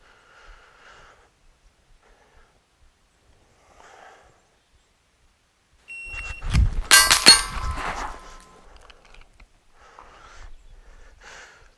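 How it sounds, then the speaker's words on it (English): Gunshots fired while moving to cover during dynamic gun training: a tight cluster of sharp, loud cracks in a short burst midway, with quiet footsteps and movement before and faint ringing afterward. "what I'm going to do is shoot on the way to cover"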